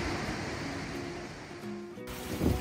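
Ocean surf and a steady breeze carry up to a hotel room on the Big Island of Hawaii, a continuous wash of waves blended with wind buffeting the microphone.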